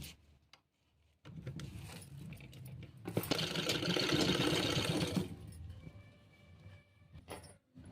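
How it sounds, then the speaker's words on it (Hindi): A sewing machine stitches a folded sharara waistband in a few bursts: a short start, then a loud, continuous whirring run, then quieter clicks and a brief final burst. "अब मैं इस पर सिलाई चला दूंगी।"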